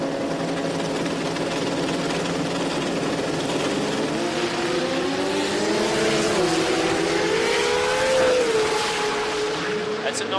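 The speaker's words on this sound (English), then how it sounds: "The Chevy S10 here for Justin Cook, racing for Horsepower Solutions" Chevy S10 drag racing down the track at the Garrett Brisbane Jamboree, its engine roaring loud and steady with rising and shifting pitch, a commentator talking over it.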